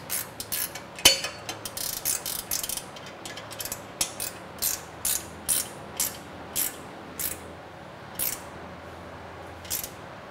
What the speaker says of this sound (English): Tighten these two bolts up here.